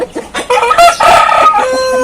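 An Aseel rooster on a farm gives a loud, close crow, preceded by a few short clucks, with no talking.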